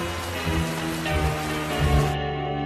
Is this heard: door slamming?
no